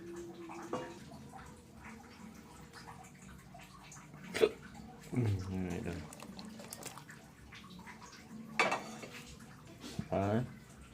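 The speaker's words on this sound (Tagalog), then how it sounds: "So ilagay na natin yung gulay." Vegetables going into a pot of beef nilaga, heard as scattered clanks of pots and utensils and splashy drops into liquid, spaced irregularly under quiet kitchen background.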